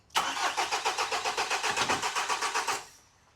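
Diesel engine on an aluminium block cranking to life: a loud, close, rhythmic chug of about a dozen even turning pulses lasting nearly three seconds, then cutting away abruptly into quiet.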